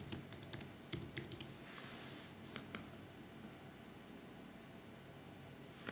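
Admin credentials are typed on a Mac keyboard, producing quiet, scattered key clicks in short bursts over faint background hiss.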